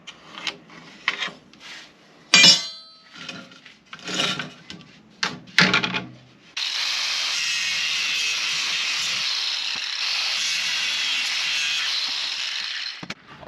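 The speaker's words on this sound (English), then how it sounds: "So just cut the tips off of these skis" Old skis are handled and scraped in a few short, uneven bursts. Then a saw cuts off their tips with a loud, steady, harsh grinding rasp that runs without a break to the end.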